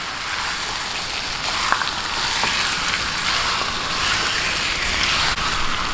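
Steady, close sizzling from sautéing in a pan for pininyahang manok, a continuous bright frying hiss with occasional small ticks of the spatula, running alone without talk.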